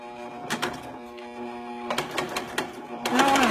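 A home sewing machine stitches a single zigzag line on a hooded garment, giving short mechanical bursts that stop and start, with a quiet voice talking between them, close up.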